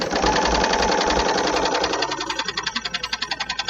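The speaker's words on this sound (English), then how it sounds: "there is a setting on the BERNINA machine for half speed" A BERNINA sewing machine runs at half speed on fabric, a loud close-up steady mechanical whir that settles into an even, clearly pulsing stitch rhythm by the end, with no talking.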